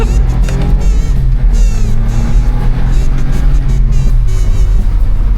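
A Smart car drives a rally stage, its small engine droning loudly and steadily at close range from inside the cabin, with a constant low rumble and road noise throughout and no pauses.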